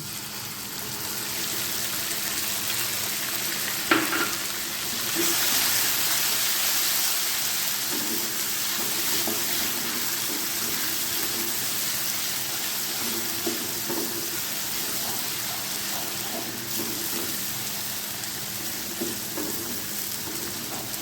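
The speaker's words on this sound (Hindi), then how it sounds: "लहसुन अदरक का पेस्ट फ्राई हो गया है" Steady crackling sizzle of garlic-ginger paste frying in a hot pan, continuous and close, with a few faint stirring clicks.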